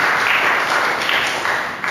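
Congregation applauding during a Sunday church sermon, a dense, steady wash of many hands clapping close and loud for the whole stretch, fading slightly at the end.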